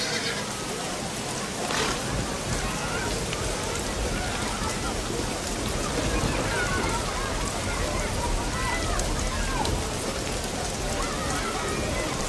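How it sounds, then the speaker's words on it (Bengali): Steady rain pours down in a constant hiss of drops that carries on without pause, with voices speaking over it throughout. "দেখো বৃষ্টি এসেছে"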